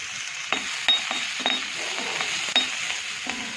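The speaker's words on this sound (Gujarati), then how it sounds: "કઢાઈમાં થોડું તેલ ગરમ કરવા મૂકી દીધું છે। આવી અંદર આપણે જીરું નાખી દઈએ" Green chilies and cumin seeds crackle in hot oil in a kadai, a close, soft sizzle punctuated by sharp clinks of a spoon against the metal pan.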